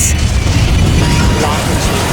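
An explosion in the PS2 air-combat game Heatseeker makes a loud, sustained roaring blast that fills the whole moment with dense rumble.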